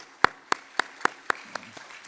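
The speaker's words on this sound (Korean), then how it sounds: "다시 한번 호선나 성가대 귀한 찬양에 박수 보내드리고 왔습니다" About eight close, evenly spaced claps sound for a church choir during a Sunday worship service, each sharp and distinct, growing softer toward the end.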